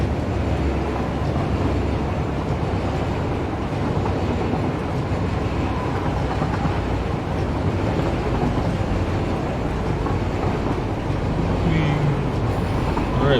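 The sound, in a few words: train passing in video game Satisfactory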